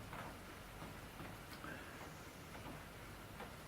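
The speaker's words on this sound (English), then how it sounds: "Rain." Steady rain falls outside a woodshed in March, a soft continuous hiss with faint patters spread evenly throughout, moderately distant and quiet, with no voices.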